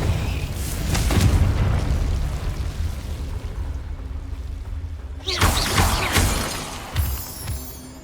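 Confringo fire-blast spells in Hogwarts Legacy on PC, booming explosive impacts with crackling debris, one near the start and a louder burst midway followed by a smaller hit, over rumbling game combat noise.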